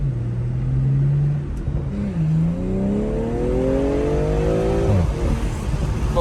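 BMW M340i engine in Sport Plus mode, a loud, close inline drone that holds steady, dips, then climbs through a long rising rev before easing off, heard from inside the car.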